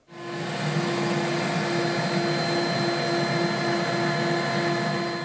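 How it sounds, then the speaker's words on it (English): A router table spins up and cuts a test pass through scrap wood, a loud, steady high-pitched whine holding at full volume for several seconds, close by. "So now we're going to take some scrap stock and make a test cut."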